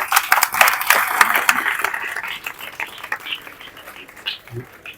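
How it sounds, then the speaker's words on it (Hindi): An audience claps to welcome a speaker at a community gathering of the Husaini Tanzeem Mandal in Piranipada, Shanti Nagar. The brisk scattered clapping is loudest at the start and thins out over a few seconds, with faint voices underneath. "तालियों से उनका स्वागत कीजिए।"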